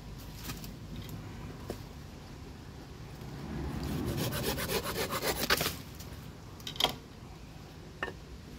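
A knife blade carving notches into a knotty wooden baton stick, giving repeated scraping, rasping strokes that swell louder midway, followed by a few sharp isolated clicks, close and clear with no talking.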